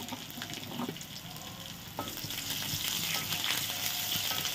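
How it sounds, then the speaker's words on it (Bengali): Sliced onions fry in a pan with curry leaves, sizzling steadily close up with a few stirring scrapes and no talk. "এখন আমি পেঁয়াজটা দিয়ে দিলাম, একটু 1 মিনিটের জন্য ভেজে নিব হালকা হালকা।"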